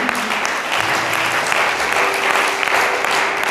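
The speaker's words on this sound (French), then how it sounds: "Est-ce qu'on peut acclamer le Seigneur?" A church congregation claps and cheers to acclaim the Lord at a Sunday testimony service, dense, loud, steady applause filling the whole stretch without letting up.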